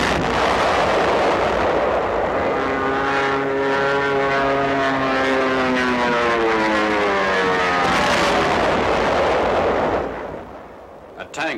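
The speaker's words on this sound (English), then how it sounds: "Tank of the 2nd Armored Division opens fire." A World War II Sherman tank of the 2nd Armored Division fires its cannon in an archival newsreel. A loud, continuous roar and rumble fills the clip, carrying a swelling droning tone, then fades near the end.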